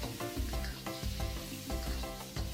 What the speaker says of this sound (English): Fry continuously until oil is released and the pork lard turns golden brown and crispy.